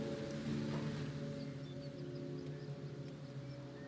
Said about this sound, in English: It has literally been raining this entire time.